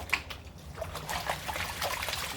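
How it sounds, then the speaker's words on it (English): Water swirled around in a gold pan, a steady close sloshing and trickling with a few louder splashes, alone without talk. "get a bit of water in there, give it a bit of a swirl around, make sure it's all nice and loose"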